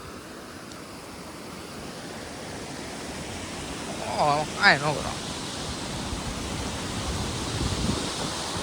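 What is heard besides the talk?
waterfall water rushing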